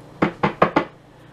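Four quick knocks on wood, evenly spaced and close, sharp hollow raps that ring out briefly in a quiet room.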